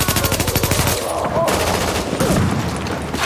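Automatic gunfire in the video game The Division, rapid rhythmic bursts of close, loud shots that give way to echoing explosions and battle noise, with game voices talking underneath.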